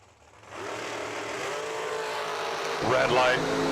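K&N Pro class drag racing cars launching down the strip at a drag race, a rising engine roar that starts after a short quiet moment and swells louder with revving near the end.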